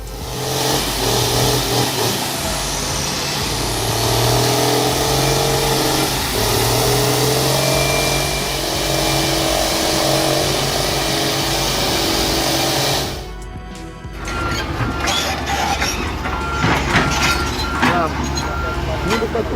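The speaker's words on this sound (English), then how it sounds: "A Valmet 148 tractor pulling a milk truck." A Valmet 148 tractor pulling a milk truck over rough ground, its engine droning and revving loudly and steadily up close, then a sudden break and a rougher, choppier engine sound, with a voice talking over it.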